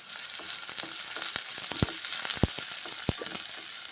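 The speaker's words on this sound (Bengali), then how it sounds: "কুচনো পেঁয়াজগুলো আমি ছেড়ে দিলাম ভেজে নেব বাদামি কালার হয়ে যাবে" Chopped onions frying in mustard oil for a chicken curry, a crackling sizzle with sharp spatula taps and stirring knocks scattered through it, close and with no voices.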